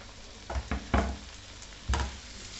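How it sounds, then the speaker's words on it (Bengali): Chopped tomatoes tipped into onions frying in a pan for Bengali fish kaliya, a few soft thuds and scrapes over a steady low sizzle. "দেখুন পেঁয়াজটা থেকে যখন ফেনা মতন বেরোচ্ছে তখন আমি এর মধ্যে দিয়ে দেবো এই যে টমেটোগুলো কেটে রাখলাম"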